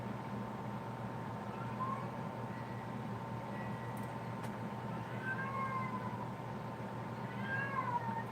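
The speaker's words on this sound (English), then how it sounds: "ignore the annoying sound in the background. That's the cat." A cat meows faintly in the background several times, thin rising and falling cries over a steady low electrical hum in an indoor room.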